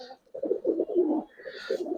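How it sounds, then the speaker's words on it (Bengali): Giribaz coloring pigeons, female birds in a Bangladeshi pigeon seller's collection, coo in repeated low throaty rolls close to the microphone, with a brief higher chirp near the end and no talking. "দুইটাই মাদি কবুতর"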